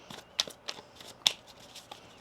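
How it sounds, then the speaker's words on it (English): Tarot cards shuffled by hand, a few crisp riffling snaps and soft flutters at uneven intervals, close and fairly quiet. "One more shuffle here."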